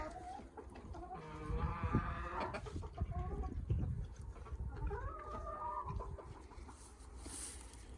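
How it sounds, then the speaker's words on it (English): Farm chickens cluck and murmur around a hay pile near pigs and goats, a busy overlapping chorus of soft clucks and a few louder calls close by. "Looks like the chickens and Mary have found the piggies' hay pile."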